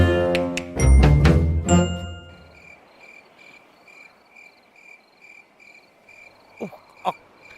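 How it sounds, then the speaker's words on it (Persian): A swarm of mosquitoes whines with a thin, steady high-pitched drone that pulses faintly. It follows a loud burst of clattering noise at the start, and a couple of sharp knocks sound near the end. "لعنتی پشه ها سوراخ هم کردن."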